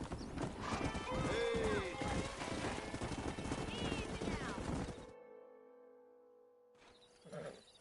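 Galloping horse hooves clip-clop loudly alongside repeated whinnies and snorts in the video game Red Dead Redemption, a brief shout over them, then the hoofbeats cut out leaving a fading tone and one last nicker.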